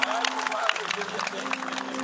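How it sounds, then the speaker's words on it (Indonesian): Applause from a church revival congregation, a steady wash of many hands clapping at moderate level with a crowd murmur and a low sustained tone beneath. "Berikan tepuk tangan yang meriah buat Tuhan"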